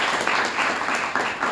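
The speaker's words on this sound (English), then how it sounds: "give him an applause" Audience applause at a cooking workshop, a steady dense patter of many hands clapping close by, continuous and fairly loud throughout.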